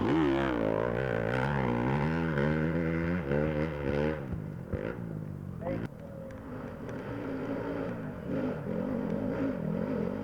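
A 2-stroke dirt bike at the 2014 GNCC Mountain Ridge race revs hard in rising, warbling bursts as it climbs a hill, then settles into a steadier, rougher drone.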